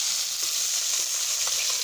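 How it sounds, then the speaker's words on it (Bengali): Bata fish frying in hot oil gives a steady, close sizzle that hisses on without a break for the whole moment, with no voices. "আজকে মাছ ভাজার গন্ধটা খুব সুন্দর উঠেছে"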